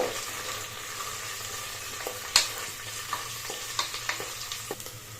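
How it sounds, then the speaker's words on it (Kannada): Chopped onions fry softly in oil in a pan for Udupi hotel-style veg pulav, a steady close sizzle with a sharp clink of a spoon and several light stirring taps toward the end, no talking. "ಈರುಳ್ಳಿನ ಜಾಸ್ತಿ ಫ್ರೈ ಮಾಡೋ ಅವಶ್ಯಕತೆ ಇಲ್ಲ ಸಾಫ್ಟ್ ಒಂದು ಫ್ರೈ ಮಾಡಿದ್ರೆ ಸಾಕು"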